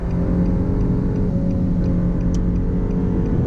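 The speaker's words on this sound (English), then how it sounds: "I have my foot all the way down on the pedal" Four-cylinder engine of a 2018 Nissan Versa held at full throttle while accelerating, a steady droning hum with a constant tone and no rise or fall across the span.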